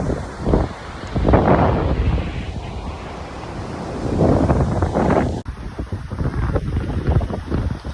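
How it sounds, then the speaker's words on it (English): Strong wind buffets the microphone in loud, rumbling gusts, with a rushing roar that rises and falls throughout. "It's hot, but it's man windy today."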